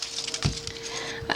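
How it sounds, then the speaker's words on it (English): A knife slicing the ends off an onion on a board, two short cutting thuds with crisp crunchy onsets, close and fairly quiet over a faint steady hum. "And then you cut your onion."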